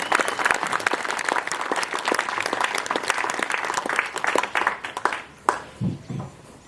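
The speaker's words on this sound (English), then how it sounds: "So let's give a quick round of applause for Hoover Street Elementary." An audience applauds for an elementary school at a Bay Area education event, a dense burst of clapping that stays loud for about five seconds, then thins into a few scattered claps and fades.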